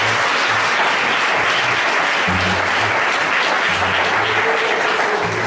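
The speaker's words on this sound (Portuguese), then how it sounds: "E as suas palmas louvam o Senhor em nome de Jesus." A church congregation applauds in praise, a dense, steady wash of clapping that fills the whole stretch at full strength with low murmurs beneath it.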